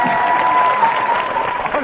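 A studio audience breaks into steady, dense applause during a Korean talk show discussion, a continuous wash of clapping heard up close that fills the whole moment.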